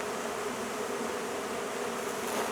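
A swarm of honey bees fanning beneath a trampoline makes a constant close buzzing drone, steady and even throughout, with no voices.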